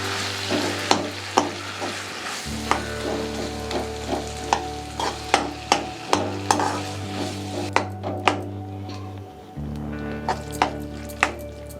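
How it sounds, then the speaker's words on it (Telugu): Boiled yam and bachali greens curry gets stirred in a pan, a steady sizzle under regular scraping knocks of the spoon roughly once a second, close and clear with a low hum behind and no voices. "ఇలా కలుపుకుంటూ ఉండాలి కూర"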